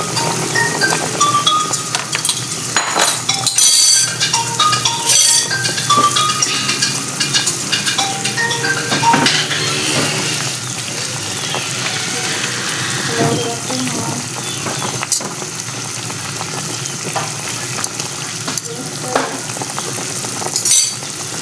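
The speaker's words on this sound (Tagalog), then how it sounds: "Lagyan na natin yung ating cabbage at saka Chinese cabbage." Cabbage and Chinese cabbage go into a pot of boiling bulalo broth, which bubbles and hisses steadily throughout, with occasional clinks and knocks of a utensil against the pot.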